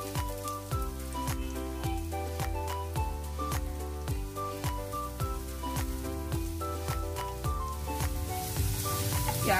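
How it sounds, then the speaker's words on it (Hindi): Onions fry in hot ghee in a pan with a continuous crackling sizzle dotted by sharp pops. Steady rhythmic scraping or tapping from a utensil sits over the sizzle, with music playing in the background. "अब इसमें हम प्याज भून लेंगे।"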